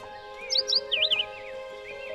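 Songbirds whistle and chirp in quick, warbling bursts around the middle of the stretch, fairly close and clear over a steady low background hum.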